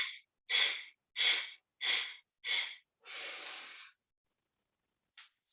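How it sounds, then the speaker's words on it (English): Yoga breath of fire: five sharp, forceful nasal exhalations in quick rhythm, then one longer sustained exhale, followed by brief faint breaths, close and clear in a quiet room. "Breath of fire out."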